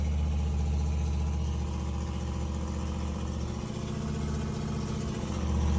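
A 1968 Ford F250 pickup engine runs at high idle while it warms up after sitting, a steady, even rumble with a low pulsing beat, recorded from close by and fairly quiet.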